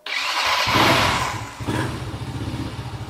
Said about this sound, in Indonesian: Untuk ngecek motor ini sehat juga atau enggak, ya langsung aja kita starter enggak sih teman-teman